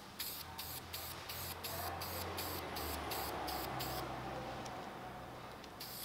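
Cleaner spray misted onto a K&N air filter: a rapid run of short, close hissing spray bursts in a steady rhythm, then a pause and one last brief spritz near the end. No one talks.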